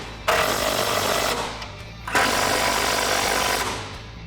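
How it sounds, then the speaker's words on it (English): Ratcheting power tool tightening coilover top nuts with a 15mm socket on a 2015-2019 Mustang, two loud sustained bursts of buzzing rattle separated by a short pause, no talk. "using a 15mm socket, we are going to tighten up our top nuts"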